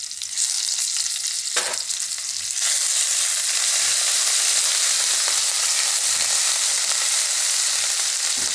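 Curry leaves and ginger hit hot oil with a loud, steady sizzle and crackle that swells after a burst of stirring, a close, continuous frying hiss with no voices.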